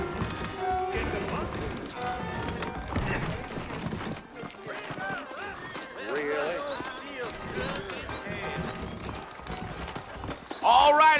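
Horse hooves clip-clop in a steady rhythm in Red Dead Redemption beneath a voice and background music, with a louder clatter near the end.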